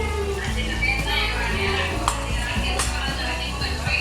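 Onions fry in hot oil with a continuous sizzle, and a few clinks and stirring sounds come through over a low background hum of tones.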